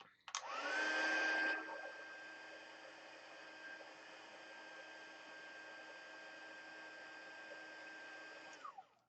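A handheld heat tool heat-sets embossing powder on a card embellishment: a loud fan-heater whoosh spins up, settles into a steady whirring hiss for several seconds, then cuts off.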